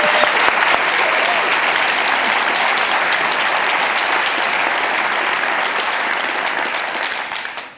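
Audience at a conference keynote welcoming illustrator Chris Riddell, a dense, loud, sustained wash of clapping that holds steady and fades out at the end.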